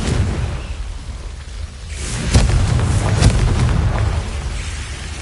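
A Confringo fire-blast spell in Hogwarts Legacy goes off with a deep rumbling explosion, a rising whoosh followed by a heavy boom and a lingering low roar, heard alone without voices.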